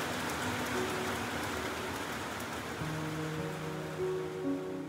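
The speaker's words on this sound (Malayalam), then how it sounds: "മഴ തീരുമായിരിക്കും തോന്നുന്നു, ഇടയ്ക്കൊന്നും നിൽക്കുന്നുണ്ട്." Steady rain falls outdoors in a mountainous area of Uttarakhand, a continuous, even hiss with a low rumble beneath it and no voices.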